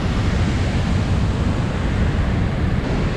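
River current at Chapada dos Guimarães in Brazil makes a continuous broadband rush of flowing water, steady and moderately loud, with no voices over it.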